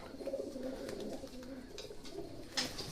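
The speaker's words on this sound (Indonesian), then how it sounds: "Ini dia merpati saya baru landing." Soft pigeon coos repeat in low throaty murmurs, close by, with faint rustling and a brief sharp noise near the end.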